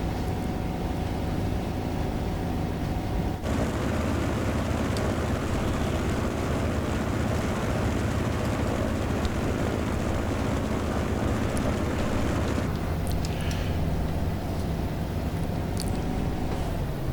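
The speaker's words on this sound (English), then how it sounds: "I just want to try and make a safe landing with a crippled airplane." A-1 Skyraider propeller airplane engine in Microsoft Flight Simulator 2024, a crippled aircraft coming in to land, giving a loud continuous droning roar that shifts in tone partway through and holds steady without speech.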